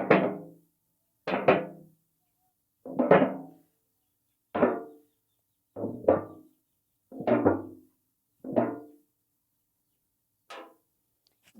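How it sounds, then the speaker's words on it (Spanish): Among Us video game sound of moving between vents: a series of seven short, clanking metallic thumps spaced about a second apart, each decaying quickly, then a fainter final click, heard alone. "Y este es el sonido de cuando cambiamos de alcantarilla."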